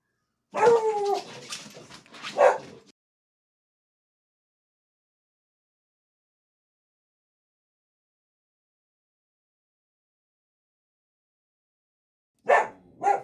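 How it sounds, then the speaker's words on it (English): Dogs bark, yip and whimper up close in a short, agitated burst lasting a couple of seconds, followed by a long silence and then a brief final flurry of barking at the very end. "Dogs were going off there."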